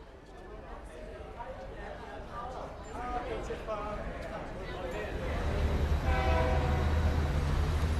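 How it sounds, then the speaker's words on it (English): An ore-laden freight train rumbles past in Brumadinho with a low, building roar that grows louder toward the end, with faint voices and distant clatter earlier on. "Morning and evening, the freight train rumbles through, laden with ore."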